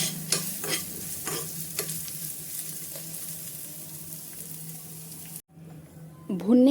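Peanuts roast in a pan for a samosa filling, with a soft continuous sizzle and several sharp scrapes of a spoon stirring early on; the sound briefly cuts out near the end before a short vocal sound.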